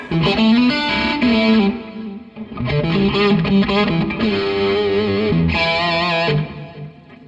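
Distorted electric guitar chords through a Providence Chrono Delay DLY-4 pedal ring out with a washy, repeating delay trail, sustained phrases separated by a brief dip, loud and up close.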